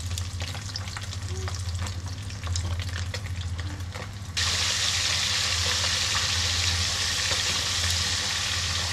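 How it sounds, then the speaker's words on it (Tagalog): Food bubbles and sizzles steadily in a pot, a constant hiss that swells louder partway through over a low hum. "Ayan, kumukulo na siya."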